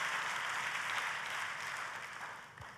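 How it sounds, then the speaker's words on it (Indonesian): A church congregation applauds together after a call to praise God, a steady broad wash of clapping that carries evenly and fades slightly toward the end. "kita kasih tepuk tangan yang paling meriah buat Tuhan kita"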